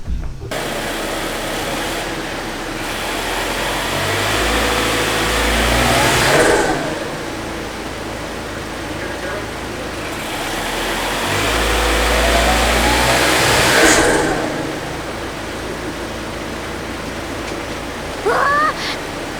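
Car engine with a newly installed Injen intake, idling and then revving twice in long rising and falling sweeps, loud and close.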